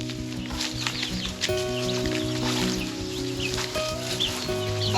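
Several hens cluck and squawk close by in a village henhouse, in overlapping, restless chatter that runs continuously throughout.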